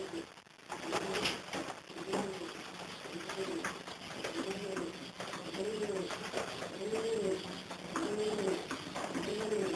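Pigeons coo close by in a repeated, evenly spaced rhythm of soft rolling calls, one after another over a low background hum, with faint outdoor rustle and no clear talk.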